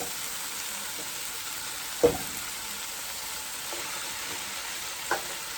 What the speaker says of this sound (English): Just stirring it.